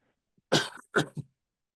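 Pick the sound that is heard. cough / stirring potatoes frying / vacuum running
cough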